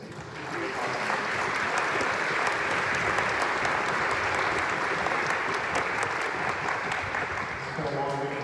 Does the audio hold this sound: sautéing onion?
no